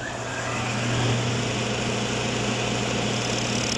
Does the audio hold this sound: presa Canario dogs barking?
no